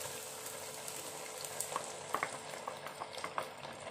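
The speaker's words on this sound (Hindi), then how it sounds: "अदरक लहसुन को थोड़ा सा भून लेंगे हम और अब डाल देंगे टमाटर का पेस्ट जो मैंने बनाया था" Ginger and garlic fry as tomato paste goes in for dhaba-style chicken bhuna masala, making a soft, steady sizzle with small scattered pops and spatters.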